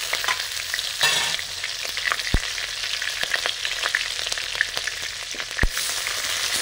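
Whole cumin and green chilies fry in hot mustard oil for a cabbage curry, a steady close sizzle with occasional stirring scrapes and sharp pops, and no voices.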